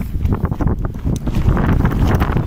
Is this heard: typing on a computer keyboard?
no